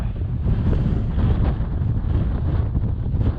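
Strong, gusting wind roars across a microphone on a snowy mountain during bushwhacking, a constant loud buffeting rumble with no speech.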